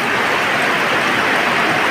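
Heavy downpour of rain in Assam in September, a dense, steady roar of falling water that stays loud and unbroken throughout.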